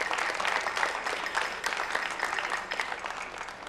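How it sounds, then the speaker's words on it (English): An audience applauds scholarship sponsors at the grand finale of a national science and maths quiz, a steady wash of clapping from a large crowd that lasts throughout at moderate, slightly distant level. "A round of applause to all our scholarship sponsors."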